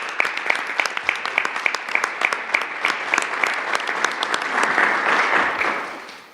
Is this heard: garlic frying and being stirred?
no